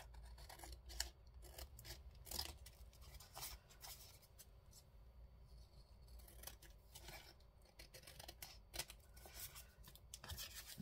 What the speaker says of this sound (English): If I'm off shot, I'm just cutting out.